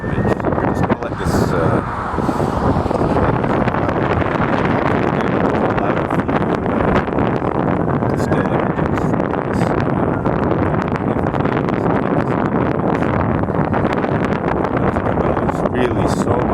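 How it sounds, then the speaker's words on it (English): Strong outdoor wind buffets a microphone during a night observation of a waxing crescent moon, a loud, continuous rushing roar with low rumble that persists throughout the clip. "really so much wind"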